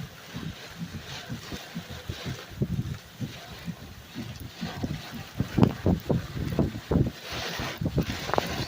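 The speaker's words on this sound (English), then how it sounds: "60 to 65 mile an hour wind." Strong straight-line wind gusting at 60 to 65 mph during a storm in Stone County, roaring and buffeting the microphone in uneven, repeated gusts that swell louder toward the end.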